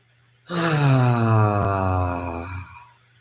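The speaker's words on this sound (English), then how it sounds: "Breathe in super deep" A long, deep in-breath during a guided group meditation, drawn in slowly and steadily for about two seconds before tapering off, close and fairly loud.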